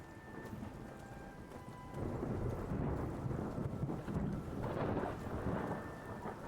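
Steady rainfall in the video game Skyrim hisses with low rumbling thunder swelling in the background, punctuated by faint clopping hoofbeats of a horse.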